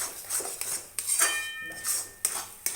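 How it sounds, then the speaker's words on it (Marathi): Masala spices roasting in a pan over a low gas flame, with a spoon scraping and clinking against the metal in irregular strokes, some sharp knocks standing out over quiet frying. "हे मसाला चांगलं भाजायचं बघू शकता तुम्ही गॅस एकदम स्लो होत आहे मसाला भाजायचा"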